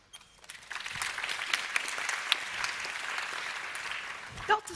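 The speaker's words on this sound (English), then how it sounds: "Dr. Zulfi, why are you applauding?" An audience at a panel discussion on maternal and newborn survival breaks into applause, a dense crackling clapping that swells quickly and holds steady for several seconds before fading.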